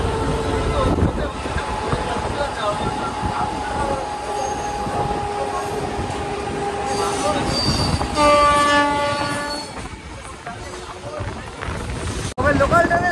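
A Howrah to Digha local train rolls along with a steady rumble of wheels and carriages, and its horn blares loudly in repeated blasts over the running noise while muffled voices carry in the background.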